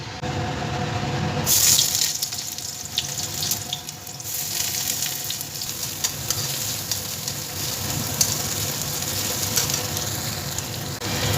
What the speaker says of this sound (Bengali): তেলটা গরম হয়ে গেছে এবার এর মধ্যে দিয়ে দেবো পেঁয়াজ কুচি